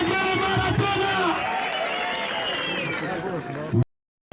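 A large crowd ululates in celebration as piped water arrives at Kibumba, sustained high trilling voices wavering together over loud crowd noise before cutting off abruptly.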